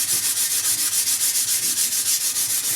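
Coarse and medium grain abrasive flex blocks rub rust and plant residue off a scythe blade, a steady rhythmic back-and-forth scrubbing of about a dozen quick strokes, close and fairly loud with no talking.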